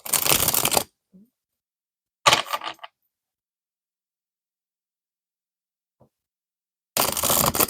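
Tarot cards shuffled by hand in short bursts, a crisp riffling flutter at the start, another brief shuffle in the middle and a third at the end, with silence between.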